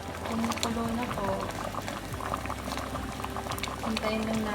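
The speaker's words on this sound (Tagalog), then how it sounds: "Crema di kalabasa. Kumukulo na to." Squash cream soup boils steadily in a pot, a dense bubbling and gurgling that carries on throughout, with a voice speaking over it.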